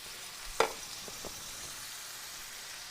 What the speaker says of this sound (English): Now the sizzling has gone down.